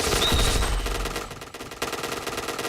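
Rapid automatic gunfire in a video game fires in quick, fairly loud bursts, with a short pause before a second stuttering volley, and no voices over it.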